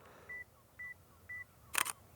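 A camera's two-second self-timer gives three short, evenly spaced beeps, then the shutter fires with a quick mechanical click, all close and quiet in a still room.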